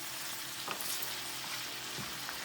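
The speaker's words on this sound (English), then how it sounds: "Give a very good stir." Fried rice with meat, peppers and mushroom is stirred in a hot pan, a low steady sizzle broken by a few soft scraping strokes of the utensil, quiet and close with no voices.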